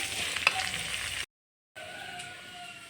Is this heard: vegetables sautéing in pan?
yes